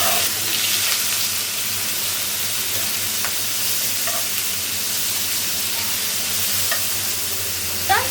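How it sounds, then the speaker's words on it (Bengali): Shrimp frying in mustard oil in a hot frying pan, a loud continuous hissing sizzle with occasional stirring scrapes and small pops, steady throughout with no talk. "দিয়ে দেবো সরিষার তেল। আগে চিংড়ি মাছটা ভেজে নেব।"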